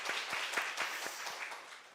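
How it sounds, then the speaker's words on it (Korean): A church youth congregation at a Sunday worship service applauds together, a brief burst of dense clapping from many hands in a room that fades slightly toward the end. "우리 주님께 영광의 박수 올려드리겠습니다."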